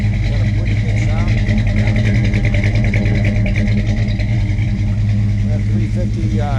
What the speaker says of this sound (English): That 350 crate motor puts out about 366 horse. It's got a mild cam, high-rise manifold, Edelbrock 4-barrel carb.